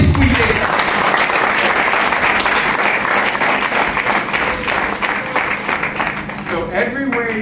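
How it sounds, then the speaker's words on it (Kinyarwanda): Applause from a church congregation, a steady dense patter of many hands clapping that continues for several seconds under a voice, loud and close. "Amashyi kuyireka."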